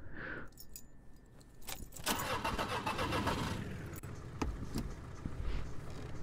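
Car engine starting in the video game Crime Scene Cleaner, with jangling keys and a steady low engine hum running through the whole stretch, faint and with no voices.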